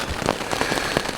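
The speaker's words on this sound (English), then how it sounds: "just like dumping rain" Heavy rain pours down in the wilderness along the East Buckasaw River, a loud, dense hiss of drops with sharper spatters striking close by.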